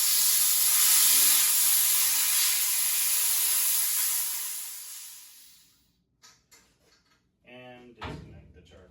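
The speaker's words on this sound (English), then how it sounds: "Bleed the line with the bleeder valve." Compressed air from a firefighting SCBA cascade and compressor charging line bleeding through a bleeder valve, a loud steady hiss that tapers off over about five seconds, followed by small clicks and someone speaking.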